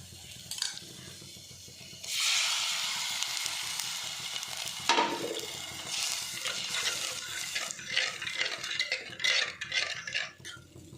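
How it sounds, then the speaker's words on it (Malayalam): Buttermilk poured into a hot pan, a sudden loud hiss and sizzle that settles into steady frying, followed by scraping, clinking stirring with a spoon against the pan, close up, with no talk. "മോര് ഒഴിച്ച് കൊടുക്കാം കേട്ടോ."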